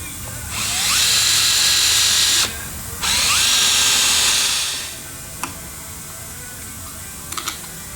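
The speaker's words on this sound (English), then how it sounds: "So now I'm just gonna drill a hole right through there." A power drill whirs loudly in two sustained bursts with a short pause between, then stops, leaving a couple of faint clicks.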